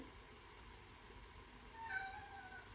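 A cat lets out a faint, thin meow in a home kitchen where chili is being made, rising once against a quiet room hum.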